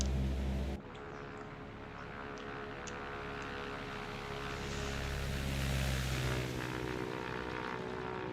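A Cessna 172 propeller plane taxis toward the runway with its engine droning steadily and loudly up close, the propeller hum swelling slightly midway through.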